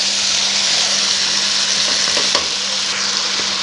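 Vegetable spaghetti with spices stir-fries in a pan, giving a loud, steady sizzle with light scraping from stirring throughout and no talking.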